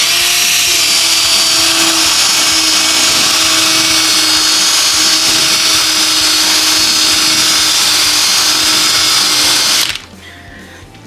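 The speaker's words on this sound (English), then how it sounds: "also known as a toffee wheel" A toffee wheel strips sound deadening from a Porsche body panel, a loud, steady high-pitched whirring grind that runs continuously for about ten seconds before cutting off abruptly, leaving a faint residual hum.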